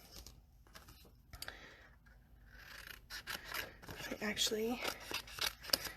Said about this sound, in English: I'm going to fussy cut them out